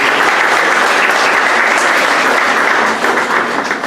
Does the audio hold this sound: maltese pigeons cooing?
no